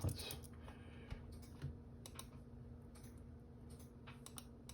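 Quiet typing on a computer keyboard, with soft, irregular clusters of key clicks over a low steady hum from the room.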